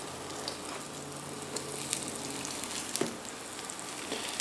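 Eggplant slices frying in oil give a steady soft sizzle with scattered small pops and crackles, fairly quiet and close, with no talking.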